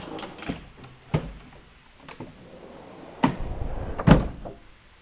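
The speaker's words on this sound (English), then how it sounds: "put the drawers back in" A few dull wooden thumps and sliding knocks as drawers are put back into an Isuzu D-Max build, spaced unevenly, over a low background rumble.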